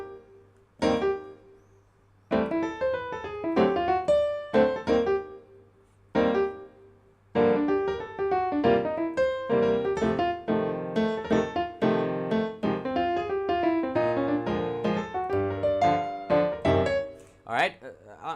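A bebop jazz recording plays with stop-start phrasing at first, then a steady, dense stretch of horns over a rhythm section, fairly loud and clear with no voices over it.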